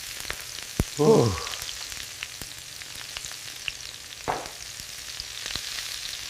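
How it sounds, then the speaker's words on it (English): Scallops sizzle in a hot pan in a short burst, then settle to a quieter background; a single voice exclaims briefly. "Sizzling scallops."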